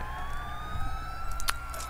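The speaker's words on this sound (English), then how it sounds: "Drifting in a fire truck." Fire truck siren in the GTA IV video game, a steady wailing tone running throughout over a low engine rumble, with a brief sharp clatter near the end.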